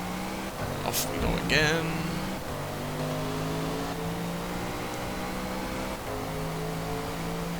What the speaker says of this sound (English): Amazing sounding V8 in this.